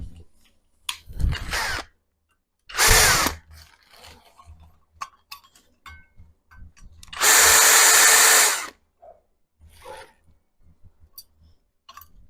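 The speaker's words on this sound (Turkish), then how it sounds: "Şunu bir sökelim matkapla" A power drill whirs in three separate bursts while unscrewing a terrace wall light fitting, two short and one longer and louder, with clattering handling sounds in the gaps.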